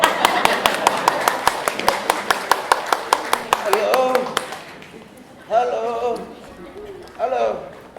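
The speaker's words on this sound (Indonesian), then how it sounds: "Tepuk tangan dong" A theatre audience at a Teater Mandiri performance claps in a steady, rhythmic unison beat for about four seconds; voices then speak loudly over a quieter background.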